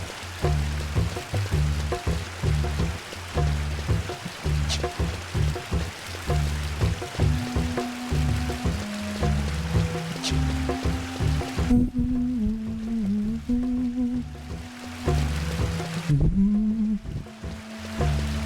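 Steady rain ambience in the Final Fantasy XI video game, a continuous hiss of falling water layered under low droning game music, loud and unbroken throughout.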